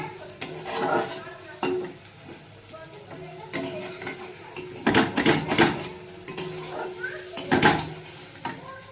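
Eggs stirred in a pan, with a faint sizzle beneath several sharp bursts of a spatula scraping and knocking against the pan, irregular and close, with a voice speaking briefly between strokes.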